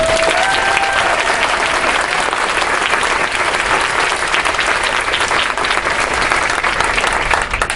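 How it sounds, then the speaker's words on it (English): Loud, dense audience applause at a women's organizing summit in Michigan, welcoming a speaker and sustained evenly throughout. "Let's give her a round of applause."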